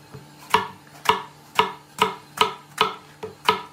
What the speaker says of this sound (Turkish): Patlıcanları da biraz iri doğrayalım.